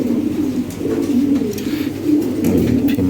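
Fancy pigeons, including Lahori and Sherazi birds, coo continuously and loudly up close as they are handed over, a dense low rolling murmur that barely pauses.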